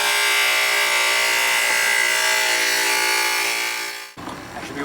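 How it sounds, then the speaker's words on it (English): A power saw with a diamond blade cuts through tile, a loud, steady high-pitched whine lasting about four seconds before stopping abruptly, followed by faint background noise. "this is a diamond blade, so I don't have to worry about cutting my fingers"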